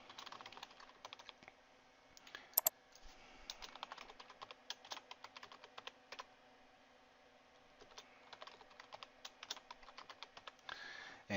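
A password is tapped out on a computer keyboard, with quick, faint, close keystrokes coming in uneven bursts and small pauses between them.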